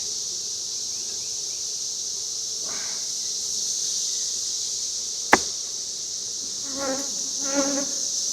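Honeybees buzz steadily around an open hive in an outdoor apiary during an inspection, a constant close hum broken by one sharp click and a few faint brief sounds near the end.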